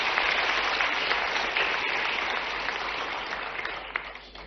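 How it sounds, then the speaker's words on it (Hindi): A hall audience gives sustained, dense applause at an official interaction event for candidates with the Chief Minister, the clapping steady and moderately loud, fading slightly toward the end. "जोरदार तालियां अक्षत के लिए भी।"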